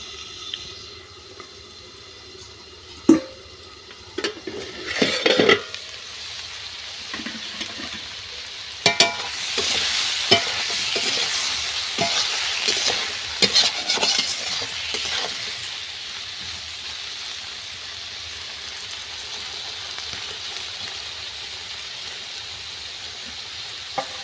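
Fish fries in a covered pan, sizzling, with occasional clinks and stirring scrapes near the start, then a steady hiss that settles and fades slightly.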